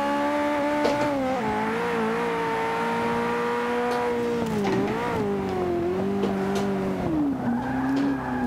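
A turbocharged 1980s supercar engine with a high whining tone of turbos spooling, rising and falling as the car accelerates and eases off, loud and steady throughout with no talking.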